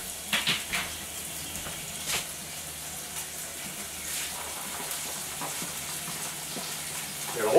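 Fresh garden onions sauté in a pan for pork fajitas, giving a soft steady sizzle broken by a few clattering stirs and utensil knocks near the start and a louder clank at the end.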